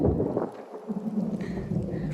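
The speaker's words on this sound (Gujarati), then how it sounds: "આમાં તો બીક લાગે એવું ગાજે છે" Low rolling thunder rumbles beneath steady rain, with wind-like hiss in the background, brief and fairly close.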